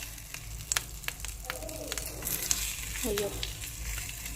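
Fish frying in ordinary cooking oil in a pan, a steady low sizzle with scattered pops and crackles, close by, with a short spoken exclamation over it.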